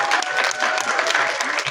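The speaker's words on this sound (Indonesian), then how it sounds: "Saya minta tepuk tangannya dulu untuk teman-teman cast kita" Audience at a horror film press conference applauding the cast, a brief, dense and loud burst of clapping from a crowd, steady throughout.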